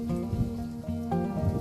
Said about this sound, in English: It started raining right, I think about 3 o'clock in the morning, and it keeps raining.